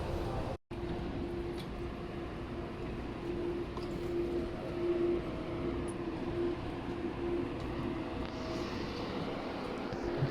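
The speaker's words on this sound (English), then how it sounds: "The Airport Express takes you from Hong Kong International Airport to Kowloon West Station in approximately 24 minutes." Steady rumbling ride aboard the Airport Express train between Hong Kong International Airport and Kowloon West, a continuous broadband rail hum with a faint tonal whine, one brief dropout near the start.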